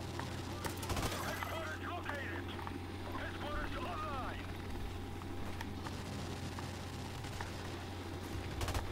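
A helicopter and gunfire in Call of Duty 4: Modern Warfare, with a steady rotor drone under scattered bursts of shots and rattling fire. Speech can be heard faintly over it.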